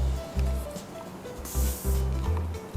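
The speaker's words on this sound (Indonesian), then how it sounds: "Setelah Chef Ki semprot dengan air, kemudian kita masukkan langsung ke ovennya." Water is sprayed onto sweet bread dough before baking, a bright hiss burst from a spray bottle alongside rustling and low kitchen hum, close and moderately loud.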